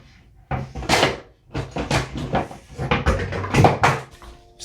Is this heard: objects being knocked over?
yes